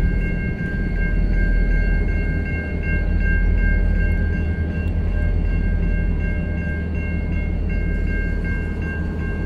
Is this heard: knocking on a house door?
no